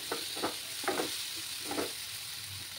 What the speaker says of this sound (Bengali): সেই কাটা টমেটোটাও দিয়ে দিচ্ছি এবার আমি। দিয়ে ভালো করে কষিয়ে নেব।